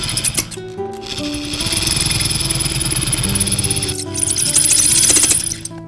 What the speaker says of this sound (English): Oh my goodness, it's overheating. I just toasted the end of my drill bit.